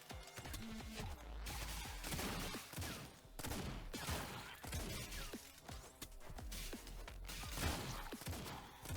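Rapid bursts of bullet fire and crashing impacts from the Autogun Heroes bullet-dodging video game, dense and continuous with brief dips, loud and close with no talk.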